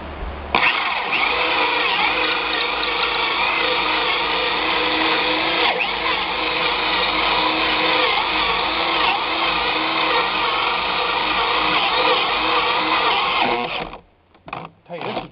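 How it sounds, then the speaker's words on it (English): A powerful electric drill runs loud and steady for about fourteen seconds during shed wall and door work, then cuts out into brief stuttering bursts near the end. "This is one powerful drill."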